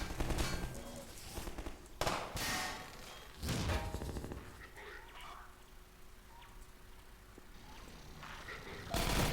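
Gunfire in the video game Half-Life 2, with a sniper covering a city street: sharp, loud shots burst out a few times and echo away, while voices speak quietly between them.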